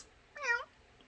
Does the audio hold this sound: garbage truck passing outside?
no